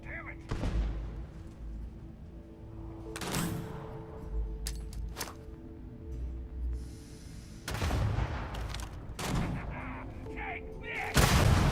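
Gunfire from the video game Starfield comes in several heavy bursts and booming shots spread across the stretch, loud and close. It is mixed with game noise and occasional voices.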